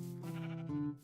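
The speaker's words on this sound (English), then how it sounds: "Oh, I thought it was a calico sheep." A sheep in the Minecraft video game gives a single close, clear bleat with a wavering tone that shifts pitch near the end, alone without speech.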